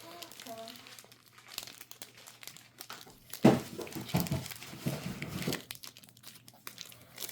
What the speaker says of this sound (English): I had to open up the packaging.